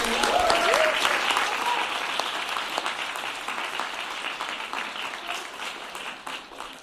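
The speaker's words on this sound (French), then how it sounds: "Donc je pense qu'on peut s'applaudir" Sustained applause from a feminist coordination gathering's audience, a dense wash of clapping that is loud at first and slowly tapers off, with a few voices faintly mixed in.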